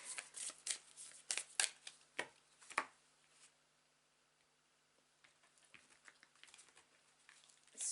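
Tarot cards shuffled and flipped in a run of crisp, close riffling bursts and soft slaps that come fast early on, then a quiet stretch followed by a few lighter card drops.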